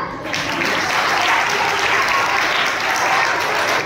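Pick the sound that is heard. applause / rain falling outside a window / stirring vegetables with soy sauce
applause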